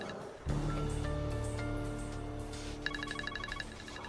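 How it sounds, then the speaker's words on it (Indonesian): A phone rings in a drama scene with a repeating electronic ringtone, steady and fairly loud over a dense background of music or ambient sound, with a brighter rapid trill of tones near the end. "Aku angkat telepon dulu ya."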